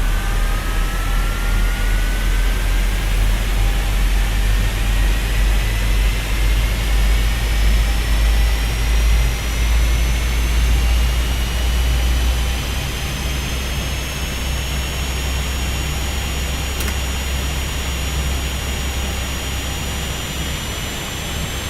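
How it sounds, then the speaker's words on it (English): Engine number one of a simulated airliner in X-Plane 12 spools up at Denver, a loud steady jet roar with a whine rising slowly in pitch throughout, no voices. "So we're gonna start with engine number 1."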